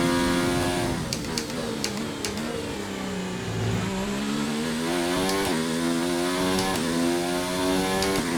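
Formula 1 car engine in the F1 video game at Australia practice, a steady high-pitched whine that rises and falls through several gear changes, loud and continuous with no talking.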